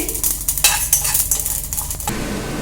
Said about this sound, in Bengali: এই যে মশলাগুলো ছিট করছে, তার মানে কিন্তু মশলা ভাজা হয়ে গেছে